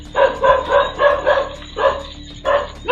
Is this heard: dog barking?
yes